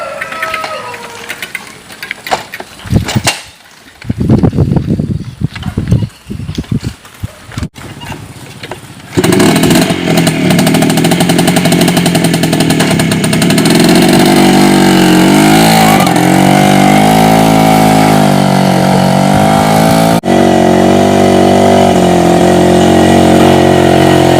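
An old motorcycle sputters and coughs in uneven bursts before catching and running loudly and steadily, engine note wavering as it revs, with people talking at the start.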